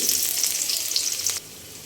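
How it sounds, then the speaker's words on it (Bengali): Chopped onion and garlic dropped into hot oil, a bright crackling sizzle that stays strong and then drops to a quieter simmer near the end, with no voices. "তেলটা গরম হয়ে গিয়েছে এখন আমি এখানে দিয়ে দিব তিন টেবিল চামচ পরিমাণ পেঁয়াজ এবং রসুন কুচি"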